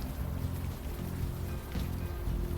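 Steady rain falls in an outdoor scene of the Unavowed adventure game, a dense, even hiss with a low rumbling bed beneath and no talk.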